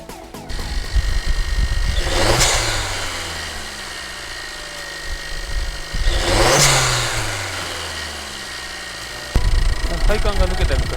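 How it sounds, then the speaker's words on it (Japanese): A Suzuki Swift Sport engine, just fitted with a BLITZ suction pipe, runs at idle with two revving surges that rise and fall, close by, ending with a rougher rumble. "エンジンを始動して異変がないかを確認しました。"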